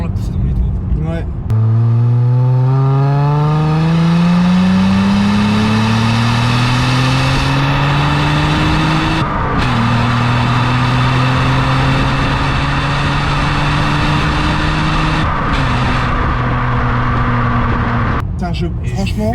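A Mazda MX-3 with its small V6 revs hard while driving, the engine note climbing steadily through the gears with brief dips at each shift, loud and close from inside the car.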